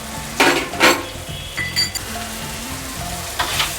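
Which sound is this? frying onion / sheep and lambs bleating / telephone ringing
frying onion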